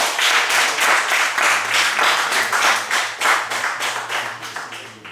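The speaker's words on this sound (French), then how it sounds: "Applaudissez pour vous-même." A group of children at an orphanage celebration clap for themselves, a lively burst of many small hands pulsing in quick uneven waves for about five seconds, fading slightly at the end.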